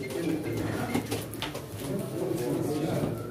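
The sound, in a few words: pigeons cooing at a pigeon auction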